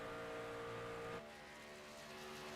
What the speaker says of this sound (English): We're going to watch it go by. There goes the 8 truck, Steve Blankenship.